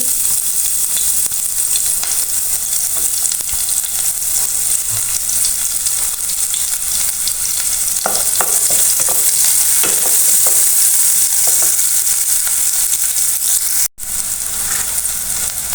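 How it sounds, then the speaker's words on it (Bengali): Chopped onion fries in white cooking oil with a loud, continuous close sizzle, stirred now and then with soft scraping bursts, and a brief dropout near the end; no one speaks. "তো ফার্স্ট আমি পেঁয়াজ কুচি বা কেমা দিয়ে দিচ্ছি"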